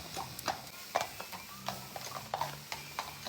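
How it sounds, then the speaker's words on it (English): Horses' hooves clip-clop on a hard surface in an uneven series of sharp, moderately close knocks, with low background noise and occasional faint voices. "You see the horses?"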